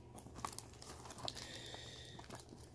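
The sealed wrapper on a 2004 Upper Deck Reflections baseball card box is torn open by hand, with quiet crinkling and short ripping bursts close to the microphone, faint overall.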